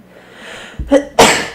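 A single sharp sneeze bursts out loud and close after a brief preparatory breath, then fades quickly into quiet.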